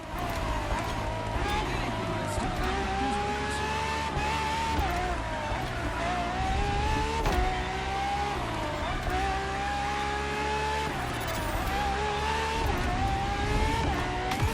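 A Ferrari FXXK supercar lapping a track in the racing game The Crew Motorfest: a loud engine climbing in pitch through repeated revving rises and gear shifts, continuous and close throughout.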